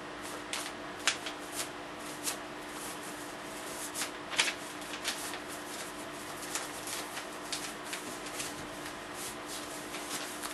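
Paper is folded and creased for an origami flapping crane: soft, repeated rustles and crinkles, close and fairly quiet, with scattered sharper creasing ticks over a steady background hum.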